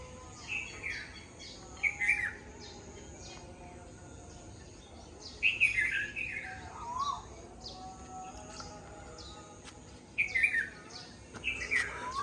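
Several birds chirp and sing in the early morning, sending out bright bursts of twittering calls every few seconds, with quieter background calls between them.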